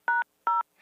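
Two short, clean telephone keypad tones from phone buttons being pressed, evenly spaced and clear, with nothing else audible.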